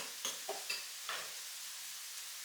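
A few brief scrapes of a utensil stirring ground-beef burrito filling in a pan, four quick strokes early on, then quiet over a faint background hiss.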